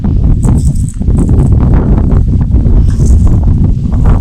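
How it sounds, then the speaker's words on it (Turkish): Strong wind buffets the microphone in a continuous loud low roar over a vegetable garden being dug, gusting throughout with faint rustling above it. "Çok da rüzgar var."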